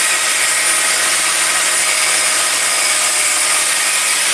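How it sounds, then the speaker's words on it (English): An angle grinder grinds a bad weld off a custom exhaust bracket, giving a loud, continuous, high-pitched abrasive hiss that holds steady the whole time with no pauses. "Always have the grinder spinning, away from you."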